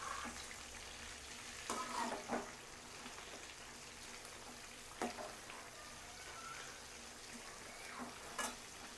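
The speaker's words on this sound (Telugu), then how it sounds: "ఇలా వేసిన తర్వాత కింద ఒకసారి కొంచెం సేపు వేగిన తర్వాత తిప్పుకోండి." Chicken 65 pieces fry in hot oil in a pan over a medium flame, giving a soft, steady sizzle with occasional sharper crackles and spatters as the pieces are turned, with no talking.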